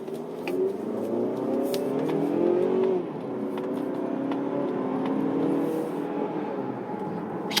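A Mazda CX-30 AWD accelerates at full throttle, heard from inside the cabin. The engine drones steadily and its pitch climbs, drops briefly at a gear change, then climbs again.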